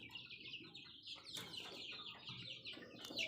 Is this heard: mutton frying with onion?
no